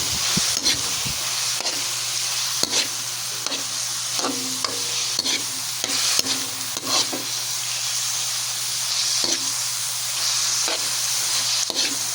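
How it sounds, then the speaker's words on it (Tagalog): Meat frying in a pan while a utensil stirs it, a steady loud sizzle running throughout with repeated scraping and clinking strokes against the pan. "Then natin na pong ilalagay ang ating karne. At medyo hahalo-haloin natin para hindi siya dumidikit sa kawali."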